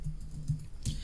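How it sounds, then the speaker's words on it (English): A few light keyboard keystrokes while a name is entered on a Windows 10 computer, soft, close and irregular, with no talking during the taps. "I am typing my name"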